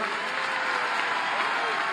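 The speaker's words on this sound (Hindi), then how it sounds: "एक बार जोरदार ताली इनके लिए बजा दीजिए जरा" Crowd at a BJP political rally clapping for the party's candidate, a continuous, dense wash of applause that holds at an even level, with a voice faintly beneath it.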